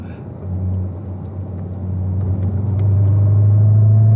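A car accelerating down the straight of a race track, its engine rumble holding a low, steady drone that swells louder and climbs slightly in pitch as it gathers speed.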